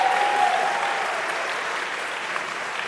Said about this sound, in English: So please give a round of applause for our Mayor, Bill de Blasio.